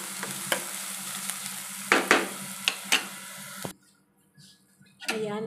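Shrimp sautéing in a pan of mutton curry with curry leaves: a steady sizzle with sharp stirring clacks of a utensil, then the frying drops away near the end as a voice speaks.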